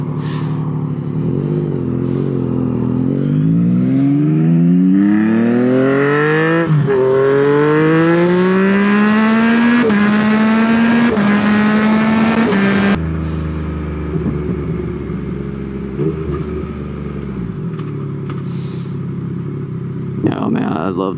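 Yamaha MT-09 motorcycle accelerating hard through several gears, its engine rising in pitch in steady sweeps broken by sharp, brief quick-shifter upshifts before easing off; loud and close, steady throughout, with no talk.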